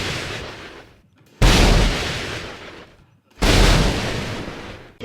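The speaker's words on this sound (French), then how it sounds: "fire whips, cracks through the air, flames grow with each strike, and explosions erupt as fireballs" AI-generated fire whip strikes and explosions: two sudden heavy booming cracks, each bursting in with a loud roaring blast that slowly fades into a rumbling tail, with a third starting at the end.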